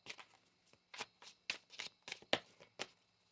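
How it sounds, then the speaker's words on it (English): Soft riffling and snapping of tarot cards being shuffled, a series of quick papery bursts, quiet and close, with no speech. "One more shuffle here."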